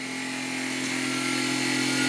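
A Tineco Pure One S15 Pet cordless stick vacuum running steadily on a floor in automatic mode, its loud whirring motor drone rising slightly in pitch and volume as suction power increases, with no speech.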